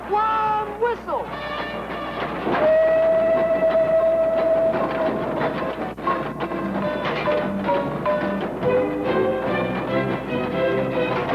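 A steam locomotive whistle in a 1972 Pancho Villa film, a long sustained steady tone sounding amid loud rail clatter, shouting and a busy dense soundtrack.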